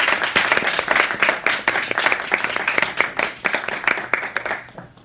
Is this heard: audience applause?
yes